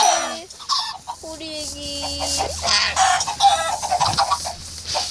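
Chickens cluck in the Minecraft video game, with several short bird calls under a voice and game noise, close and fairly loud.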